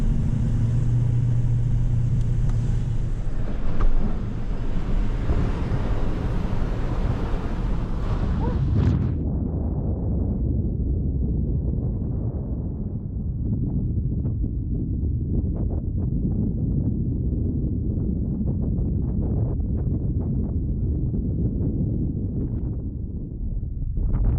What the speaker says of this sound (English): Wind is making it hard for me to focus.